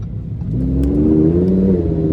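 A 2015 Lamborghini Huracan LP610-4 engine accelerates on a road test drive, a loud, close, rising roar that climbs steadily in pitch over about two seconds with no talking.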